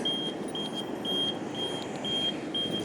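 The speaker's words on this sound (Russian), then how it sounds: "Светофор вот так вот пикает в то время, когда переходить надо." A pedestrian crossing signal on a street in Yakutsk gives a steady series of short, high electronic beeps about every half second over a low wash of street traffic and ambient noise.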